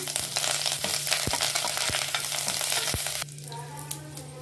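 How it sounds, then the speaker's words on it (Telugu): Curry leaves drop into hot oil with frying cashews for pulagam, a steady crackling sizzle with sharp pops, settling to a softer, quieter fry near the end. "ఇప్పుడు కొంచెం కరివేపాకు వేసుకుందాం"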